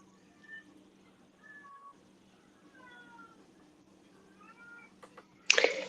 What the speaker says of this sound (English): That is not my cat.